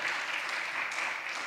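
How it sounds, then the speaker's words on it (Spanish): A church congregation applauds, a brief, fairly quiet, steady patter of many hands clapping together with no voices over it. "Dar un aplauso al Señor."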